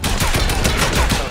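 Dense, rapid gunfire from Fortnite crackles in a sustained burst of overlapping shots, loud and close, with no voices over it.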